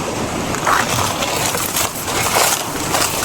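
Steady broadband rush of water flowing strongly, a constant roar with surging swells, close and loud, no voices.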